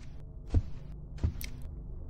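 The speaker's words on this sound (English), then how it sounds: "When you hear your heart pounding, you need to calm down." A heart pounding effect from the video game Shadows 2 Perfidia: two deep, muffled thumps about three-quarters of a second apart over a low hum, with a faint higher blip after the second beat.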